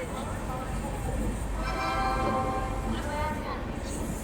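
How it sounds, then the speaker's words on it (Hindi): Shiv Ganga SF Express pulling into Kanpur Central platform, a steady loud rumble of rolling coaches with a long tonal horn-like whine rising midway, while someone talks over it. "360 किलोमीटर का डिस्टेंस ट्रेवल करके अपनी शिवगंगा एक्सप्रेस आ चुकी है कानपुर सेंट्रल पर"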